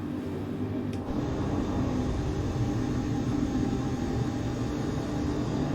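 Boeing 717 jet engine spooling up in Microsoft Flight Simulator 2024, a steady broadband roar with a low rumbling hum that holds level throughout, a faint click near the start.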